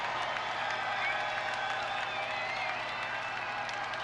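A women's college basketball crowd in a gym, Winthrop hosting Campbell, roars and claps after taking the lead, a dense sustained wash of cheering and applause with a commentator's voice mixed in.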